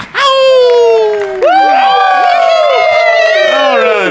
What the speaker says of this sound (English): The crowd erupted with excitement as a man that lived up to the title stepped onto the stage